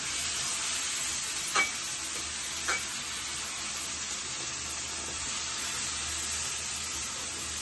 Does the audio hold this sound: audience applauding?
no